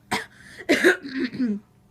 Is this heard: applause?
no